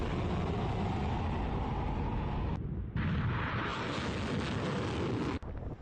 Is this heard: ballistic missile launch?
yes